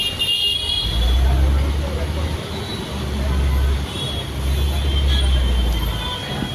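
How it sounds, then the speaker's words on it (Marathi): Heavy road traffic in Dadar, Mumbai: a constant roar of idling and moving engines with low rumbling surges, scattered horn toots and background crowd babble, fairly loud and close. "लांबपर्यंत पूर्ण ट्रॅफिक."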